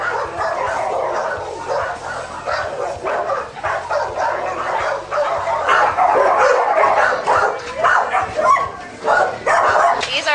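Rescued pit bulls from a dog-fighting case bark, yip and whimper almost continuously at close range, several dogs overlapping in a noisy, restless chorus.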